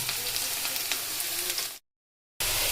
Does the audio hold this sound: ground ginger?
yes